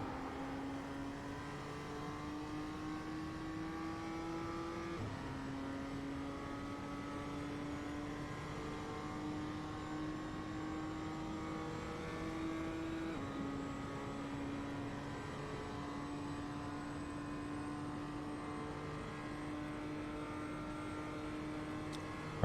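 A BMW M2 race car in iRacing at Daytona Road Course drones steadily at high revs with continuous harmonic engine whine, pitch climbing through gears with two upshift drops, loud and uninterrupted throughout.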